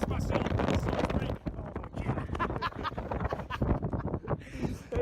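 Strong wind at Land's End buffets the microphone in steady low rumbling gusts, loud and constant, with a person talking over it.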